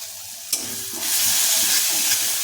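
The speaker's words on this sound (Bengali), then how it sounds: "এবার খুন্তিতে কিছুক্ষণ এটাকে কষিয়ে নেব" Turmeric and red chili powder being sautéed in hot oil with a spatula for green banana kofta curry: a sharp hit, then a loud, close, continuous sizzle that swells and holds steady, with no speech.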